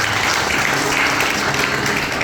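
A church congregation at a Christmas service claps for God, a dense, steady wash of applause throughout, loud and continuous.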